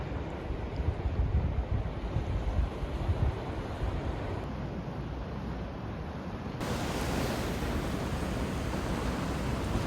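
Sea waves wash against oddly shaped rocks and rounded pebbles on a coastal trekking shore, a steady broadband roar of surf with some wind, continuous and fairly close for about ten seconds.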